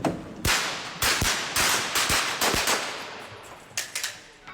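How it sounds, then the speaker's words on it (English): Simulated close-quarter battle gunfire using paintball-tipped ammunition at an RAF force protection training site: a string of sharp, loud cracks, some single and some in quick bursts, echoing and fading between shots, with no talking. "That was the sound of a simulated close-quarter battle."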